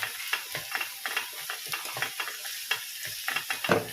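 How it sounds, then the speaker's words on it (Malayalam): Capsicum thoran stir-fry being stirred in a pan, with irregular spoon scrapes and clatters over a soft background sizzle, close and moderately loud. "നന്നായിട്ട് മിക്സ് ചെയ്യാം."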